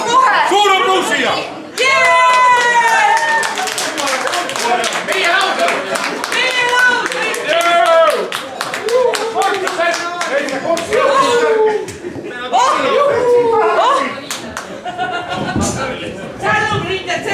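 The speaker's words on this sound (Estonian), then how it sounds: "Suur aplaus siia." Applause from a party audience at a fiftieth-birthday celebration, loud and sustained clapping mixed with crowd chatter, shouts and laughter, with people talking throughout.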